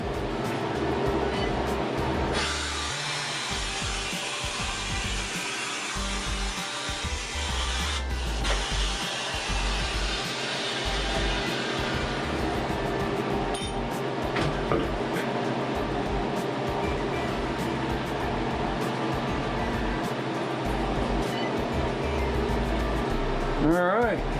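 A freeze dryer's drain valve opened after the dry cycle on a batch of scrambled eggs and sausage, releasing a broad, steady rushing hiss that holds at an even level for the whole stretch with a low rumble underneath.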